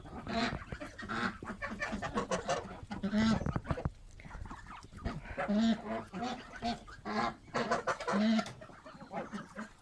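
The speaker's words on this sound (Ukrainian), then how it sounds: "Вона їсть і оре, ви бачите? Їсть і крякає." Geese feeding in a farmyard, honking close by again and again between pecking sounds, with someone talking at times.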